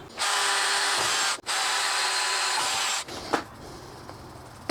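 A power drill bores into an aluminum plate while building a spare tire carrier, two loud sustained whirring bursts broken by a brief pause, then quieter clicks and handling noises.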